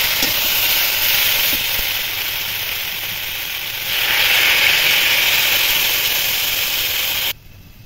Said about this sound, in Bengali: ভালোভাবে কষে নিয়েছি, এবার জল দেবো।